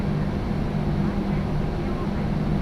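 Steady drone of PMDG 737-800 jet engines running in Microsoft Flight Simulator 2024, a continuous low rumble with a faint whine, loud and unbroken.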